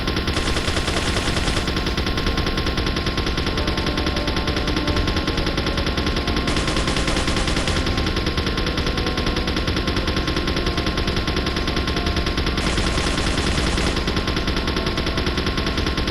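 A battleship turret machine gun fires in Resident Evil 4 in a dense, relentless rapid-fire stream that stays loud and unbroken throughout.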